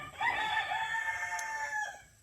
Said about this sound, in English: And they are crowing a lot now.